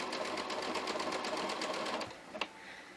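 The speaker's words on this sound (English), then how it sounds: "put your foot back down and continue sewing" A sewing machine stitches along a hoodie neckline in a steady, rapid run of needle beats, then halts with a couple of sharp clicks.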